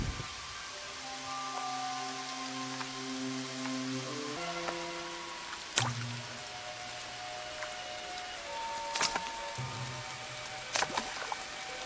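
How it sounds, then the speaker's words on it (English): Steady rain falls on the branches of a resurrection plant, a soft continuous patter with occasional sharper drips standing out, set against a faint musical background with no voices. "Rain must fall on its branches before they dry out and close up again."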